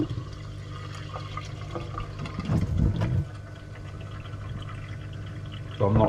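Water draining out of an Eazy Pod filter used for koi fry: a low, steady gurgling rush throughout, swelling into a louder splashing burst midway and again at the end.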